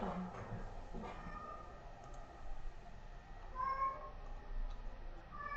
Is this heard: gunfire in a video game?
no